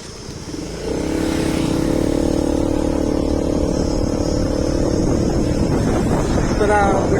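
A Vespa scooter ridden on a long road trip to Bangalore gives a steady, loud engine drone that runs without a break, with heavy wind rush across the microphone.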